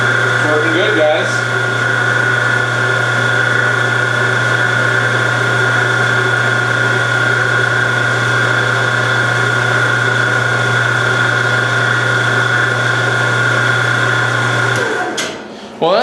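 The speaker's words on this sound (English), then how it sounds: "So let's go ahead and turn our power feed on." A Harbor Freight 9x20 gear head lathe running on power feed, a loud steady mechanical whine and hum that carries on unbroken, with a voice heard over it briefly.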